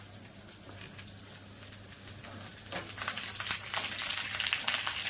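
Vegetables sizzle in hot oil after lightly fried bitter gourd, with pointed gourd dropped in for a Bengali Chaitra Sankranti dish. A steady crackling hiss swells louder in the second half.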